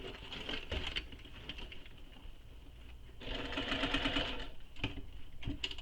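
A sewing machine stitching through layers of a Georgina Convertible Tote by DEJA Designs, running in two close, rapid mechanical bursts separated by a quieter pause, with a few light clicks afterward.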